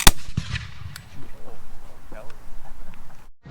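A historic musket fired at a fort demonstration: a single sharp crack right at the start, followed by crowd chatter and reactions.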